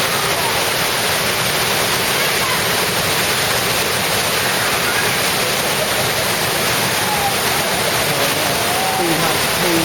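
Glacier meltwater rushes over smooth rock near a Swiss waterfall, a loud, constant broadband roar of flowing water heard up close with no break.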